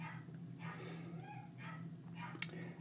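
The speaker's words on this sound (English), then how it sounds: "So if you hear barking, it's the puppies." Puppies give a few soft yips and whimpers indoors, faint short cries that come in scattered bursts over a low background hum.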